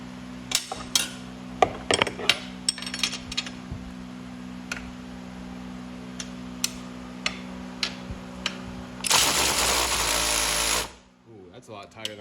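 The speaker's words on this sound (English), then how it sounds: "Electric ratchet's just not doing it today" An electric ratchet works a nut with a 14 socket on the front end of a 2022 Kawasaki KFX 50 while a 17 wrench holds the back. Scattered ticks and clicks lead into a loud, steady whir of about two seconds near the end.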